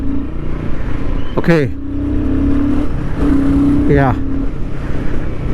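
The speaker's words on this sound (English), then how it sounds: "the exhaust sounds a little grunty," A Royal Enfield Guerilla 450 motorcycle's exhaust gives a low, grunty drone under a rider's speech, with the engine note rising in pitch as it accelerates. Two sharp sweeping surges stand out above the steady rumble.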